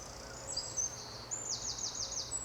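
Birds sing faintly in a graveyard, with a few thin, high chirping phrases that repeat in short runs over a steady low background of distant traffic noise.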